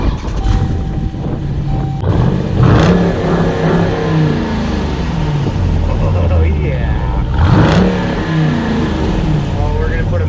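A 475-horsepower all-wheel-drive truck engine, a Scat model with carbon-fiber trim, revs hard in a few loud surges, rising and falling close by, while people talk and react over the sustained engine rumble.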